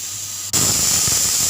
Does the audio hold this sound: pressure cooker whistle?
yes